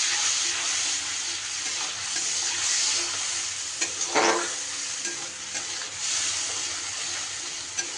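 Spice paste hitting hot oil with tempering spices for a Bengali aloo potol curry, giving a steady loud sizzle with stirring scrapes and a sharp burst of spattering midway, no voices.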